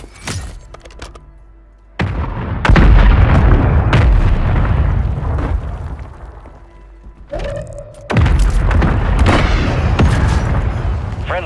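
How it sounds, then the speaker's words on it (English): Mortar strike explosions in Call of Duty Warzone: several heavy, booming blasts land in sequence with thudding impacts and rumbling tails, loud and close, separated by quieter gaps. "Friendly mortar strike on the way"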